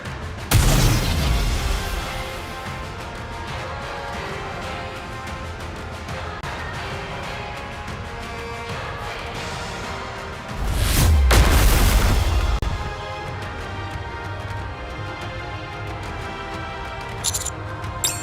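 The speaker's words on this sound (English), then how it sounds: "The unknown is approaching at high speed. She's opening fire!" Gunfire and explosions in the video game NIKKE: Goddess of Victory roar as a loud, dense barrage that runs without a break, with a heavier blast near the middle and another burst near the end.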